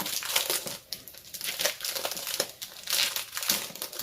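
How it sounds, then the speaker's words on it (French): Large plastic divider sheets from Craftelier, made for the brand's plastic storage boxes, crinkle and crackle continuously in close handling, with louder rustling bursts between quieter stretches. "C'est des intercalaires plastiques qui vont justement dans les boîtes plastiques de chez Craftelier"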